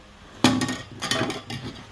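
A green plastic drinking cup drops and breaks with one sharp crack, followed by a few fainter clattering knocks as the pieces settle nearby.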